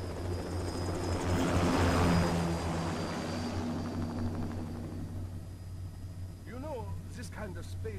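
A helicopter takes off in the action video game Metal Gear Rising: Revengeance, a steady whirring rotor and engine roar that swells, then settles into a constant drone, with a voice speaking over it and electronic chirps near the end.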